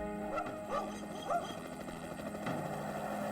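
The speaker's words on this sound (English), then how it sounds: "We had helicopters" Helicopter in flight during a search for a kidnapped child in Montana, a steady droning rotor and engine sound held at moderate level throughout, with a few faint higher tonal sweeps over it.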